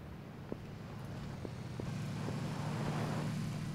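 A steady vehicle engine drone in PlayerUnknown's Battlegrounds gradually swells in loudness, broken by a few faint clicks, with no voices.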